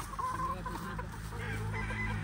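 Chickens cluck softly in short, irregular bursts against a low background rumble, fairly faint and without any talk.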